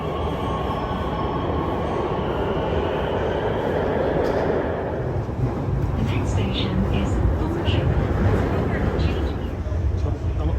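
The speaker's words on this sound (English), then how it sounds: "we'll show you more of the Beijing Metro" A Beijing Metro subway train runs underground with a loud, continuous rumble and rattle, and wheels squeal faintly over it as someone talks.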